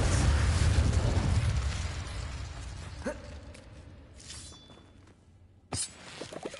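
Confringo and Bombarda spells blast in Hogwarts Legacy with a loud rumbling explosion that fades out, followed by a sharp zap, a softer shimmer and another sudden burst near the end.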